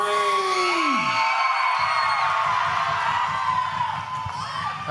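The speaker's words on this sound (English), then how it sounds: "scream for Sweet Daddy Cream" A wrestling arena crowd cheers and screams loudly, a dense roar of shouting voices with high-pitched yells and whoops sweeping over it, close and sustained throughout.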